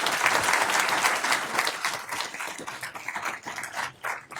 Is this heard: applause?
yes